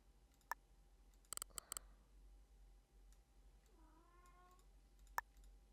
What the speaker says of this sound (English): I have to let the cat out of the office,